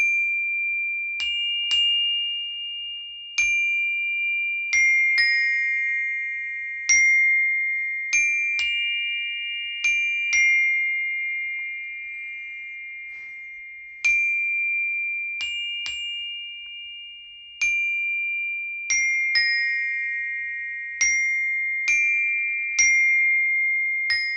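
Mallet percussion playing Essential Elements exercise 118, clear bell-like struck tones in a steady pattern with long ringing decays, alone and close.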